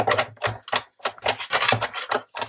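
Paper inside an embossing folder, sandwiched between acrylic plates, cranked through a hand-turned embossing machine for card making: a series of loud, rhythmic mechanical clicks and ratcheting bursts, close up, with no talking.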